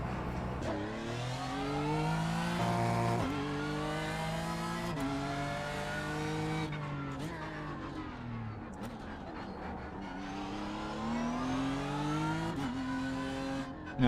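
Race car engine in the DNLS racing sim, running on cold tyres in a new car, rising and falling through repeated revs and gear shifts, loud and close, continuous throughout with no talking.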